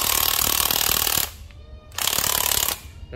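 An old Japanese cordless hammer drill hammers loudly in two sustained bursts, a dense rapid rattling with a brief pause between them and no talking.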